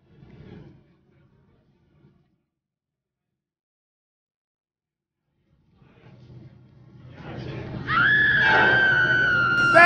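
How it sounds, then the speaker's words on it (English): A woman's high, sustained scream in the mobile video game The Silent Mystery. It rises loud and wavering near the end, after near silence and a low rumble, with a voice heard briefly beforehand. "That's her scream!"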